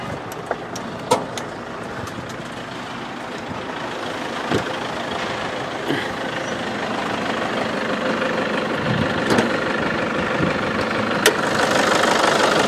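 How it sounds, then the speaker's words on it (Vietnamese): A 2012 Toyota Fortuner diesel engine idles with a steady, slightly noisy rumble and faint knock, heard up close for several seconds with a few sharp clicks and no talking. "Đây, máy dầu thì nó hơi ồn một chút xíu, nhưng đổi lại cái là nó siêu tiết kiệm."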